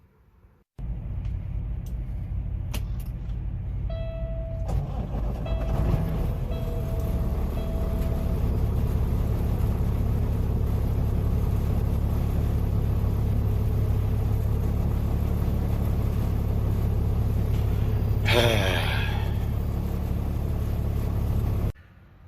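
Car cruising on a highway during a long road trip home, a steady close engine and road rumble that holds evenly for about twenty seconds, with a few faint clicks inside the cabin.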